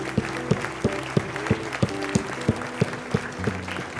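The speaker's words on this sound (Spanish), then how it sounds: "Demos un aplauso al Señor esta mañana" Church congregation applauding during a Spanish-language Sunday service, with clapping in a steady rhythm over sustained organ or keyboard tones and low music beneath.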